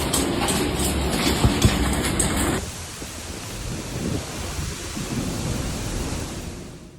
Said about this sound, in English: Amid torrential rain, icy stones fell from the sky, creating a brutal yet mesmerizing display.